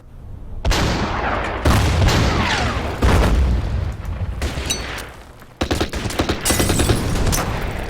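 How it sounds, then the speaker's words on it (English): Artillery fire in the World War II strategy game Order of Battle: Winter War, a series of loud booming blasts and rolling gunfire bursts in quick succession, each followed by a short decaying rumble, with no talk. "Hit it with the artillery."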